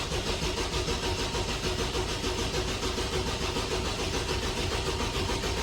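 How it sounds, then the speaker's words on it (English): A lowered stance car's engine labours as it tries to start, giving a rough, steady, loud mechanical roar with no talking over it. "If I ever hear my car try to start up like that, just shut it off."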